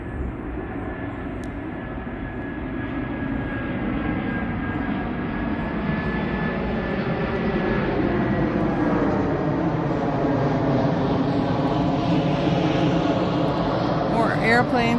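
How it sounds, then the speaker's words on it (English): A fixed-wing airplane passes overhead above Theodore Roosevelt Island in Washington, a loud, steady engine roar with a rising and falling whine that swells toward the end, heard outdoors with people talking. "More airplanes overhead."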